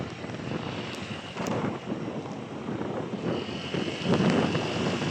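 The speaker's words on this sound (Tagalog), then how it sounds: "Malakas na hangin dito sa side na to." Heavy wind buffeting the microphone at a cycling criterium race, a steady low roar with gusts that swell louder toward the end, no voices.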